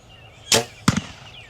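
A G5 Dirty Bird turkey broadhead arrow flies in two sharp bursts: a loud whooshing release, then a hard, close impact about a third of a second later, with quiet outdoor background between and after.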